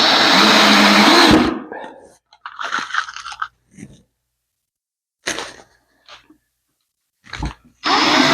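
A power drill drives screws into wood for a laminated boat seat. A long, loud whirring run is followed by shorter bursts with gaps between them, and another drill run starts at the end. Voices are heard between the bursts.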